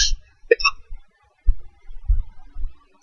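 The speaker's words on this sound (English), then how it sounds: "Hiccups are evil." A person hiccups at night: one sharp, close hiccup near the start, followed by soft breathy throat and mouth noises in an otherwise quiet room.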